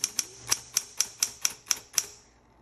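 A 1960s Smith Corona Coronet manual typewriter, repainted and fitted with a cursive typeface, clacks through about nine crisp keystrokes at a steady, even pace, each strike ringing brightly before the last one trails off.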